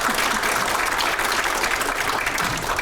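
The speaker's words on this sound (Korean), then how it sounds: "합쳐서 박수 한번 크게 쳐주시면 고맙겠습니다" An audience at an indoor policy forum on AI innovation claps in a continuous, dense burst of applause, steady and fairly loud throughout with no pause.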